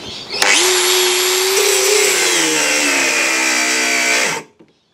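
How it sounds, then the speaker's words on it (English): Angle grinder cutting straight through 10 mm steel rod while running off an Ecoflow River 2 Max portable battery, a loud steady high-pitched whine with a dropping grind tone, lasting about four seconds before cutting out abruptly. "Straight through 10 mil steel rod with an angle grinder."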